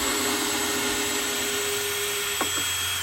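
A power tool running steadily while screws are removed from a cooking prep table, a continuous close whine with a constant tone and a brief change in pitch near the end, no voices.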